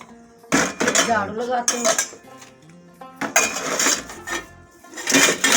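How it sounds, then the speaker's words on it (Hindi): Metal dishes, pots and pans clatter and clink in bursts as they are gathered up in a rural Pakistani village home, with someone speaking briefly between the sounds. "ये बर्तन इकट्ठे कर रही हूँ जी,"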